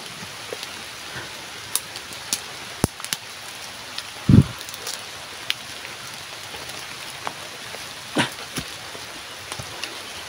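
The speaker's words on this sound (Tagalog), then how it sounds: "Ang lakas ng ulan." Heavy rain pattering steadily over a broad hiss, with scattered drops and a few louder thumps close by, no voices.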